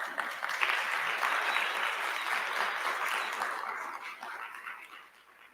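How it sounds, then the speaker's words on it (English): Steady audience applause at a conference proceedings event, sustained and fairly loud for several seconds, thinning out toward the end. "I think they deserve a round of applause"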